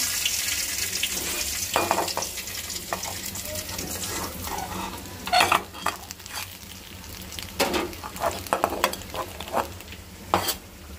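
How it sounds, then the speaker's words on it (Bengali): Fish frying in oil, with a bubbling sizzle close up, interrupted by scraping and clattering bursts as the pieces are stirred and moved. "আমার মাছগুলো খুব সুন্দর ভাজা হয়ে গেছে"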